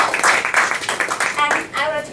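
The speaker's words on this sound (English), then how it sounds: "give her a big round of applause" Applause from a small audience at a Toastmasters club meeting, a brief burst of clapping mixed with a talking voice and overlapping chatter.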